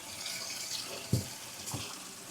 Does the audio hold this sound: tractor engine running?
no